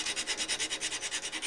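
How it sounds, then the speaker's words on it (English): A wooden ornament is rounded off by hand with sandpaper: quick, steady back-and-forth rasping strokes, about a dozen in a row, close up and alone with no talk. "you just round that off with that sandpaper"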